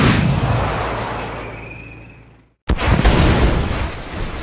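Missile launch in a Command & Conquer-style real-time strategy game: a loud roaring rush that slowly fades, a sudden cut to silence, then a fresh heavy blast and rumble.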